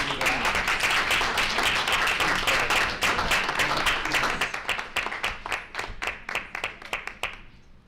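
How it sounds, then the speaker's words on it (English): Applause at a school district board meeting: a dense round of clapping that thins after about four seconds into scattered individual claps before fading out. "Danielle, Laura Lee, and Jenny and Sam, let's give them a round of applause."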